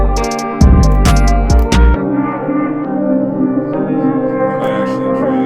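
A hip hop beat outro, built in FL Studio, with heavy 808 bass hits and crisp hi-hats that drop out after the first two seconds, leaving a sustained melodic pad fading on its own.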